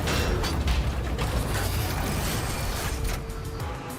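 An electric motor spins two five-ounce off-center weights inside a pinball machine, giving a loud, continuous rumbling vibration with rattling mechanical creaks as the whole cabinet shakes.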